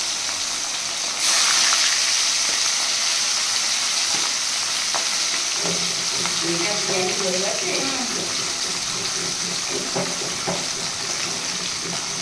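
Fish, hilsa by the morning's cooking, frying in hot oil seasoned with dried chilli and bay leaf, a steady close sizzle throughout with stirring clinks and scraping partway, no talk.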